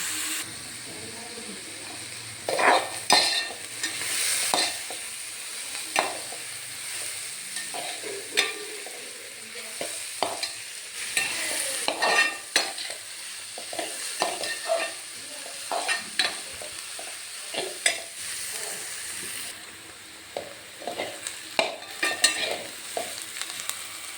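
Chicken curry masala with tomato fries on a low flame, a soft continuous sizzle broken by frequent stirring clacks and scrapes. A voice talks at times over the cooking.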